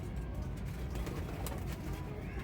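Ferozpuri pigeons on a rooftop give low, soft cooing amid steady background noise, with no clear speech over it.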